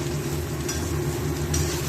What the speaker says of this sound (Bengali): সব বেগুনগুলো তেলের মধ্যে দিয়ে এবার ভালো করে ভেজে নেব।